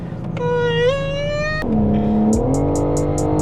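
Stock BMW M4 engine droning from inside the car while driving, a loud steady tone that rises through the revs, drops on a shift, then climbs again under a series of short ticking chimes.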